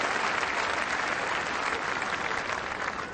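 Sustained applause from a large tennis crowd at Eastbourne, a dense, even wash of clapping that holds steady and loud throughout without a break.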